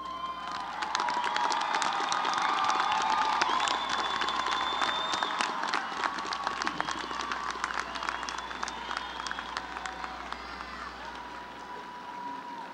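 Sustained audience applause and cheering at a university commencement ceremony for graduating honors students, dense clapping filling a large hall with scattered shouts over the full length.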